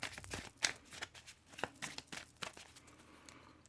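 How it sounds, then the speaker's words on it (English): A deck of oracle cards is shuffled quickly by hand, with soft, fast riffling and flicking that comes in bursts, close and fairly quiet, with no voices. "I'm going to shuffle quickly,"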